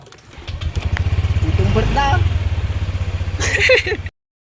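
A motorcycle engine runs close by with a loud, steady pulsing chug that builds slightly before cutting off abruptly, while someone talks over it.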